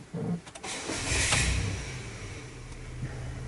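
A Chevy Impala engine cranks briefly and catches, then settles into a low, steady idle; the recording is fairly quiet and close to the car.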